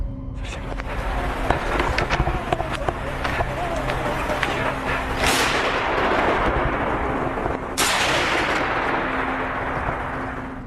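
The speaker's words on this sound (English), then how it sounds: "He fires a few warning shots to scare whatever it might be away" Several sharp warning gunshot cracks ring out at a campsite, two louder blasts standing out, over a dense rumbling background with constant noise.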